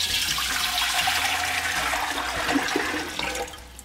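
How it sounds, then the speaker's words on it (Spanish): Water pours steadily into a pot for shrimp soup, a continuous splashing rush heard up close that holds level for several seconds before easing slightly at the end. "vamos a poner el agua de este lado."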